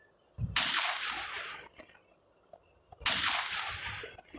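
Two loud, sharp gunshots in a video game, roughly two and a half seconds apart, each a close crack followed by a short fading tail.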